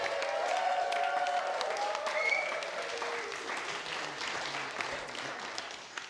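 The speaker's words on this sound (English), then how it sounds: "give them another huge round of applause" Wedding guests applauding during the speeches, a sustained round of clapping with a little cheering, carrying on under a lingering voice and gradually thinning toward the end.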